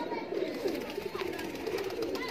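Soft, low cooing from teddy pigeons runs steadily through a murmuring background, with a voice faintly present.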